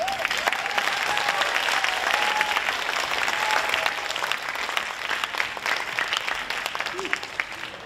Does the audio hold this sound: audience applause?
yes